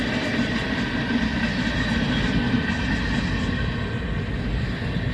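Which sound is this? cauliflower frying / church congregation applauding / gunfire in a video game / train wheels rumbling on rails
train wheels rumbling on rails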